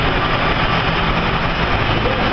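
A Kenworth T800 heavy-spec truck with a Cummins ISX diesel and tag axle idles close by, a steady loud low rumble with no change in pitch across a short stretch.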